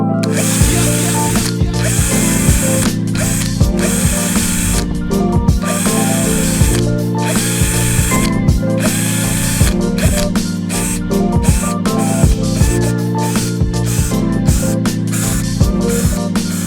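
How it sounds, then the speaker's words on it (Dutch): A power drill whirs in repeated short bursts, spinning up and stopping again and again as it bores small holes in a homemade air hockey table, loud and close. "En ja, gaan we nu boren."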